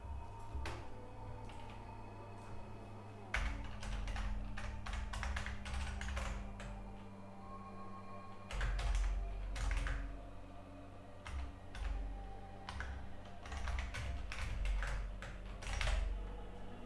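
Computer keyboard typing in bursts of quick clicking keystrokes, close and fairly soft, with pauses between runs over a low steady background hum, no talking.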